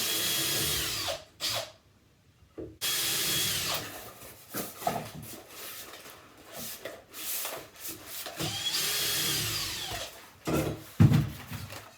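Power drill running in repeated bursts during bathroom wet room panel fitting, its whirring cutting in and out with short pauses and a few sharp knocks, fairly close and loud.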